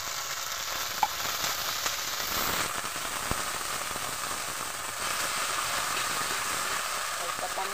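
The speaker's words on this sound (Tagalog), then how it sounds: "Gigisa guys ay yung ating sardinas." Sardines sautéing in a frying pan with garlic give a steady, close sizzle and hiss that runs for the whole stretch, with a few soft clinks of stirring.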